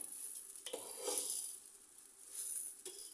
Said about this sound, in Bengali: কলার চালগুলো দিয়ে আমি ভেজে নিচ্ছি